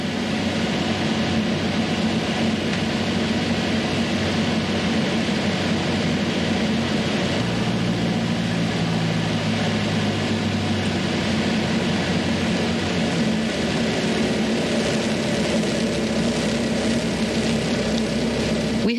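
A small airplane landing at Modesto airport fills the cabin with a loud, steady propeller and engine drone, a lower tone shifting partway through as power changes, with no talk.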